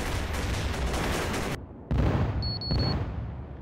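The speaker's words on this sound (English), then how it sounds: "We have called rocket fire on their position." Rocket artillery fire in a military simulation video game, a dense sustained rumble of rapid launches and blasts that cuts out briefly and then resumes loud and heavy, with no talking.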